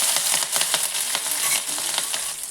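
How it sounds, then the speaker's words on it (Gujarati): Green chilies sautéing in a pan with cumin seeds and curry leaves for a Gujarati potato bhaji, giving a steady, close sizzle with light stirring scrapes throughout. "તો મરચાંને આપણે થોડીક વાર માટે સાતળી લેવાના છે."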